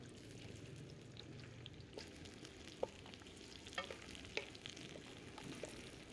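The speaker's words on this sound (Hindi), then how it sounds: "इधर प्याज को अच्छी तरह से फ्राई करेंगे" Onions frying in a pan for a meat gravy, a faint continuous sizzle with occasional soft stirring clicks and pops, steady and low, with no voices.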